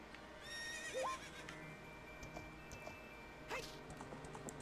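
Horse whinnies in Zelda Ocarina of Time: a rising, whistly neigh up close, then a second shorter call with a soft clatter, over faint game background sound.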